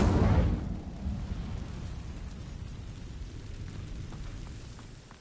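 Incendio fire spell igniting dry vines in Hogwarts Legacy: a loud whooshing burst at the start, then a sustained low crackling roar of burning that fades slowly.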